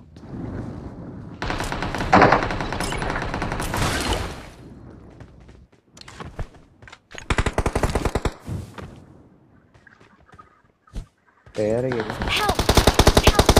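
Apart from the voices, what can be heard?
gunfire in the video game PUBG Mobile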